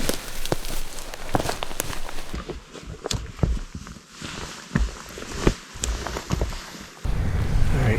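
Rain and wind on a foggy morning in the mountains during an elk hunt, a steady broadband wash with scattered drips and taps, close to the microphone, with no talk.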